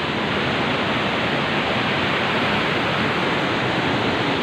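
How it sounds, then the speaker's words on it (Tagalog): Rushing river water on a rocky trail near Wawa Dam, a loud, steady, close-up roar of flowing water without pause or voices. "Kaya siguro naririnig nyo yung lagaslas ng tubig."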